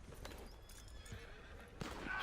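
A horse in the Western video game Red Dead Online whinnying and neighing amid clip-clopping hooves, game sounds heard up close and fairly quiet, with a louder burst near the end.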